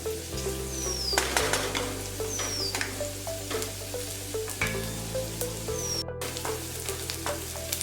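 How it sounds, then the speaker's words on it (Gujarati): Chopped onion sizzles and fries steadily in an oiled pan for sooji uppam, with a continuous close crackle, occasional stirring scrapes and a low steady hum beneath. "ડુંગળીને 1 થી 2 મિનિટ સુધી ચડાવવા દઈશું"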